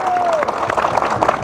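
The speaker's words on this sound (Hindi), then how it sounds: "जोरदार तालियों के साथ।" Crowd applause from a large rally of employees in Delhi demanding the old pension scheme: a dense, continuous wash of clapping with a voice carrying over it throughout.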